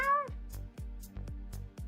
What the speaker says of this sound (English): Loki, the door just like swung open a little bit and the cat walked in